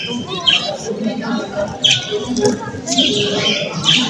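Coloured budgerigars, a male and a female, chirp and tweet at a bird fair. Short, bright calls come in scattered bursts under nearby talking.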